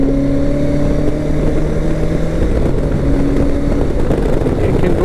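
A BMW K1100LT motorcycle pulls hard in fourth gear, its engine a loud, steady drone with rising tones, heavy wind rushing over the microphone and a rider speaking over it.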